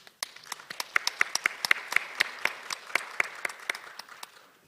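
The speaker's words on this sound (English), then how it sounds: "Please welcome Mr. Heenan with a warm applause." An audience at an international judicial policy conference applauds to welcome a speaker with a short, moderate round of clapping from a small crowd, individual claps distinct, fading away after a few seconds.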